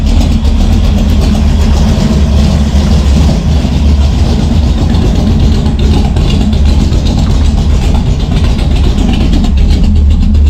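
A cold engine fitted with a Brawler 650 CFM double-pumper carburetor idles steadily and loudly up close, burning off old fuel after being flooded, a continuous low rumbling chug with no voices.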